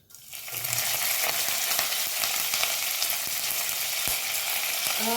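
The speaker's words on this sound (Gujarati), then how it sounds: "હવે આપણે લીમડાના પાન નાખીશું" Curry leaves dropped into hot oil with popped mustard seeds for baingan masala rice, erupting into a loud, steady sizzle after a quiet start, with a few light clinks and crackles through the frying.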